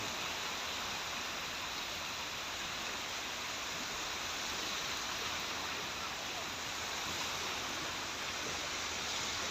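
High-tide sea waves wash onto Mae Ramphueng beach in the early morning, a continuous broad rushing roar that stays loud and even throughout, with no pauses between surges.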